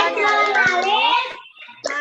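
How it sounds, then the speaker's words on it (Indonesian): A class of children chanting together in unison, their voices loud and close, with a few sharp hand claps punctuating the chant before a short pause and a final burst. "Sebelum pembelajaran kita tepuk PPK dulu ya."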